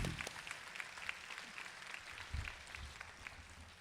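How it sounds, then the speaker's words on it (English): Audience applause at a college nursing pinning ceremony, soft steady clapping heard from a distance in a large room, faint and continuous with a few low thumps. "We could give them a round of applause."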